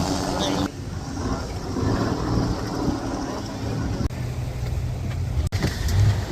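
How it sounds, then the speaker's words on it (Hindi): A speedboat engine runs as a loud, steady motor drone with wind buffeting the microphone on a Krabi island tour in Thailand. Someone talks over the engine noise throughout. "ये हमारी स्पीड बोट अब स्टार्ट होने वाली है।"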